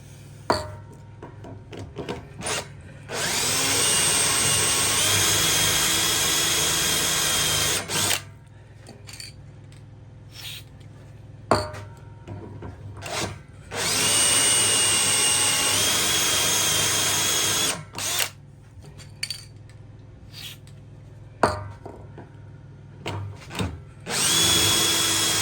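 A power drill bores holes into a workbench for mounting a bike repair stand, with two long steady high-pitched whirring runs of about five seconds each, separated by short clicks and handling noise, loud and close with no talking.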